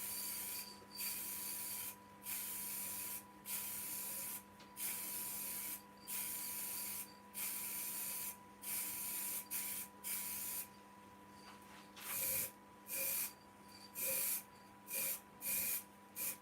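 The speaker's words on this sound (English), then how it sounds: "I'm going to give it just a quick coat of acrylic sand and sealer." Acrylic sanding sealer is sprayed on in short repeated bursts of hiss, each lasting about a second with brief pauses between, close and fairly quiet, with no talking.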